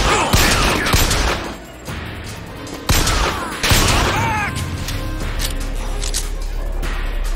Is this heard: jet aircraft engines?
no